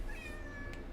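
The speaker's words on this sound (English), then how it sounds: "That is my cat, not in the game." A pet cat meows once in a room, a thin drawn-out cry heard faintly over low background hum.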